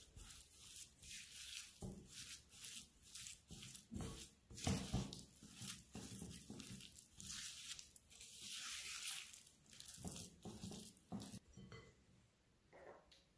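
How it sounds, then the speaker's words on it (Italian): A spatula works through thick, sticky castagnole dough in a bowl, producing quiet, repeated squelching and tearing strokes with small scrapes, close up and faint, without talk. "Lavoriamo con la spatola."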